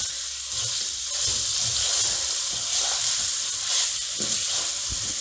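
Turmeric and red chili powder fry in a pan over low to medium heat for a lamb jalfrezi, giving a continuous bright sizzling hiss with faint stirring scrapes underneath and no voices.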